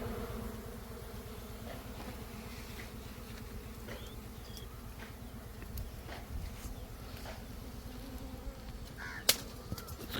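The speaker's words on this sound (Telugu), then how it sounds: "ఫ్రెండ్స్ ఈగలు చూడండి ఏ విధంగా లేచినాయి మొత్తం." A swarm of bees rises from a honeycomb during an outdoor village honey hunt, a dense continuous buzzing drone, steady and close, with a few faint knocks and clatters.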